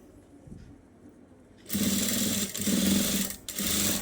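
Sewing machine stitching piping on a blouse, a close, steady mechanical whir that starts after quiet handling sounds and runs in two short bursts.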